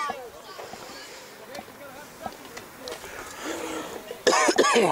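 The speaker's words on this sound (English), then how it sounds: "Excuse my cough here" A single harsh cough breaks out near the end after a stretch of quiet background murmur and faint knocks at a middle school baseball game.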